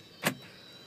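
A car's power door locks engage all at once on a network command, giving a single quick mechanical clunk, faint against a quiet background.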